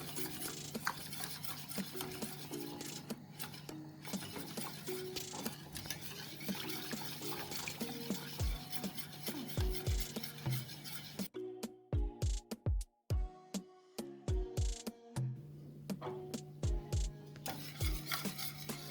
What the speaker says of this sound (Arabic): غادي نحركو حتى يدبنا الشوكولاط ديالنا